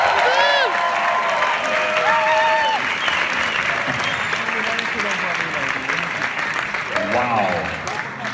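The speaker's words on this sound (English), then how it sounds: "An unusual round of applause, please, for the director of Emperor's New Groove, Mark Dindal, ladies and gentlemen." A theatre audience at the El Capitan Theatre applauds and cheers for a film director, loud sustained clapping with scattered whoops and shouted voices mixed in throughout.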